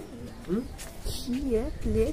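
A small-sized Chite Madras pigeon coos in short wavering calls, several in a row, close by, while a person talks over them.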